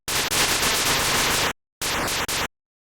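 Harsh, crackly bursts of digital noise from a C64 Explosion preset, one long blast followed by a short pause and two quick clipped bursts, like a retro video-game explosion.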